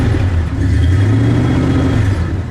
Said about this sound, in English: Go ahead, Don, give it some gas. Give it a rev.